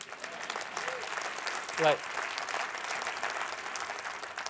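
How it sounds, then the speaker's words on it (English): Audience at a tech talk on ecological regeneration breaks into applause, a steady patter of clapping heard fairly softly, with a brief spoken word cutting through the middle. "yes, you can clap for that."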